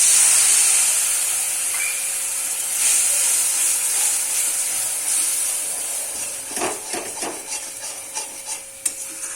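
Spice masala with chilli powder fries in oil with a splash of water for a chicken curry, giving a loud, broad hiss that eases into softer sizzling broken by a few sharp spatters and stirring scrapes.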